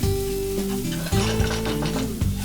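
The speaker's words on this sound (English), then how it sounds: "add 3 garlic cloves chopped, add 1 inch ginger chopped, add 1 green chilli chopped, and fry this for about few seconds" Chopped garlic, ginger and green chilli fry in hot oil, giving a loud, close, continuous sizzle with a couple of stirring knocks against the pan.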